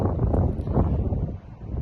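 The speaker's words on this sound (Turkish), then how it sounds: "bayağı bir rüzgar var" Strong wind buffeting a microphone outdoors by a stream, low rumbling gusts surging and easing over a brief stretch, close and loud.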